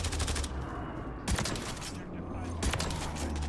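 Reclaimer 18 shotgun blasts in Modern Warfare 3 multiplayer, heavy booming shots spaced about a second apart over continuous battle noise, loud and close.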